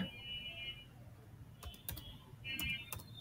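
A terminal command is typed on a computer keyboard in a coding session: a few sharp, close key taps over quiet background hum with a faint steady tone.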